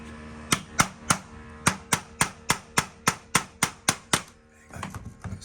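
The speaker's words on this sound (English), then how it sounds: "I've got a hammer and a screwdriver on that, it's moving the top bolt" A hammer striking a screwdriver to drive a door's top bolt loose during locksmith work: about a dozen sharp metallic knocks in a steady, even rhythm, close and clear, followed by softer shuffling.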